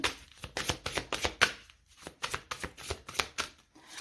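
Oracle cards are shuffled by hand in a steady run of crisp riffling bursts, close and fairly loud, with a brief pause partway before the rhythmic shuffling resumes.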